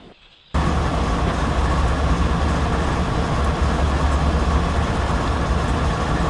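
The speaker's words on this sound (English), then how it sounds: "But our train is coming to a slowdown now." A freight train in Train Simulator 2013 on Marias Pass slows down, its heavy rumble and rolling clatter kicking in abruptly and then droning on steadily and loudly.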